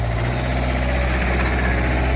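A Terex 5519 telehandler's diesel engine labors loud and steady under load during a push test with all four tires spinning, a heavy continuous rumble with no breaks.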